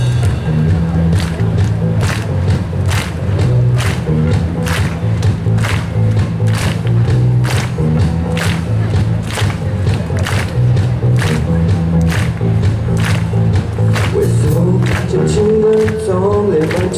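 An audience at a band's outdoor concert claps in time to a live song, sharp steady beats repeating roughly twice a second over the band's music.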